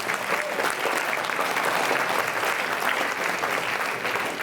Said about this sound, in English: So it requires one more big round of applause.